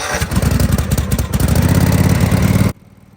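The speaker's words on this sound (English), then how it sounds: "So right here, what I'm doing is I got the engine started." A riding lawn mower's small engine runs loudly and close, a rough, pulsing chug that stays steady for over two seconds before cutting out abruptly into near silence.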